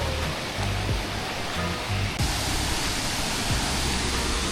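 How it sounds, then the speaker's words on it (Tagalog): The second falls at Waterfall Gully in Adelaide pour steadily, a constant broadband rush of falling water heard close, with a few faint low thumps underneath. "That's the second falls."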